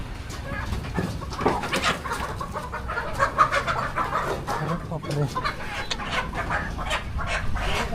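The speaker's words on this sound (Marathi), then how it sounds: "देशी कोंबडा आहे हो मामा" Native country chickens and a rooster cluck in short, scattered bursts close by, with a person's brief exclamation and background chatter mixed among the birds.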